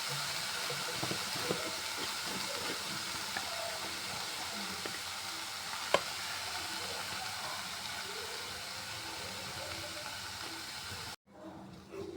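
Spice powder sizzles as it is stir-fried in a hot pan for a jackfruit seed theeyal, a steady close hiss that runs evenly for about eleven seconds before cutting off abruptly.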